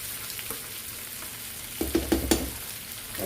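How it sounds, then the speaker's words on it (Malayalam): Sardines with grated coconut fry in a pan with a steady close hiss, while a spoon stirs and scrapes in three quick strokes partway through. "ഒന്ന് ഇളക്കിയിട്ട് കൊടുക്കട്ടോ."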